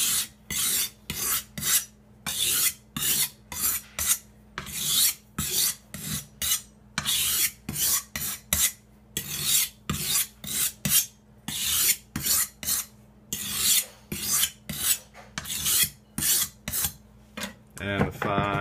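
A kitchen knife is drawn repeatedly across the medium side of a sharpening stone, giving a close series of bright, raspy scraping strokes in a steady back-and-forth rhythm.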